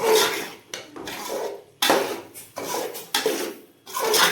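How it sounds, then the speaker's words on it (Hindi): Macaroni is stirred into masala in a pot, with rhythmic scraping strokes of a spoon against the metal, loud and close, separated by short pauses. "अब इसमें हम ये ऐड करेंगे मैक्रोनी को। इसे थोड़ा सा हिलाएंगे"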